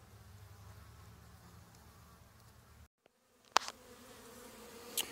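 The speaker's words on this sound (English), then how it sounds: "Great little hive of carnies." Carniolan honey bees buzz at an opened hive during a spring hive check, a steady close hum broken by a brief drop-out and a couple of knocks from handling the equipment.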